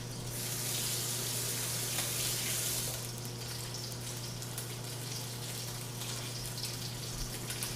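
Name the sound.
tap water running while chef washes his hands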